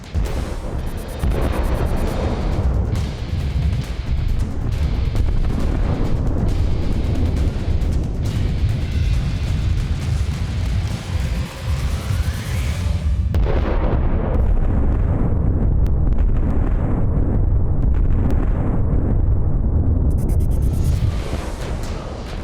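Atomic bomb blast effect for the Little Boy bomb over Hiroshima: a loud, sustained roaring rumble with crackling bursts, cutting to a deeper, darker rumble midway and swelling again near the end, with no voices.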